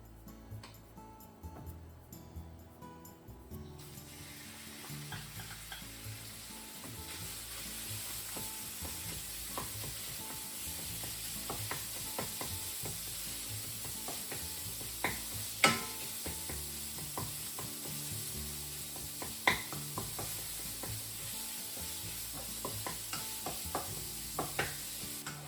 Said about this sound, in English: Add pork and let's cook it until it's browned.